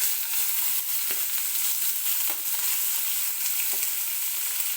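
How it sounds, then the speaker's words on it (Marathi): Finely chopped onion with cumin and mustard seeds frying in hot oil in a pan, giving a loud, steady, close sizzle with a few faint clicks, and no voices. "आणि आता मी याच्यामध्ये टाकणार आहे बारीक चिरलेला कांदा,"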